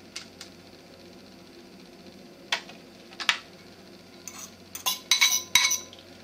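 Shredded yellow squash is stirred into a bowl, giving scattered light clinks and scrapes of a utensil against the dish, sparse at first, then a quicker cluster of taps near the end.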